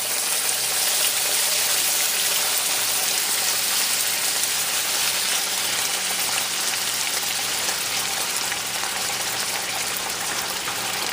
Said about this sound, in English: You can hear the sound of sizzling.